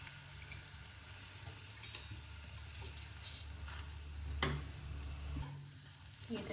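Moringa leaves and coriander sizzle gently in a pan over a low flame, with soft stirring scrapes and faint crackle running steadily throughout.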